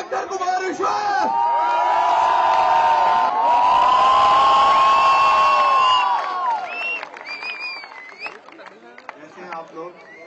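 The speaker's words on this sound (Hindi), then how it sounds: "जोरदार तालियों से स्वागत कीजिए" A large comedy-show audience cheers, whoops and shouts loudly for several seconds, welcoming a performer onstage, then the noise fades into scattered calls and claps.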